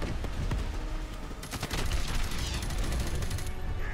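Rapid gunfire in Modern Warfare Remastered, with loud continuous automatic bursts close up that grow heavier halfway through, alone without talk.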